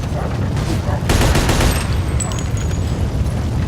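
Sustained bursts of gunfire from a Mafia II shootout, rapid overlapping shots with a louder flurry midway, with ringing high tones and rumble underneath.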